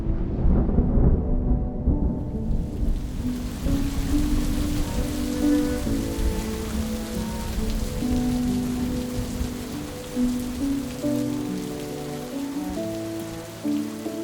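Steady heavy rain patters on a surface, loud and close throughout, with a deep low rumble underneath and no voices.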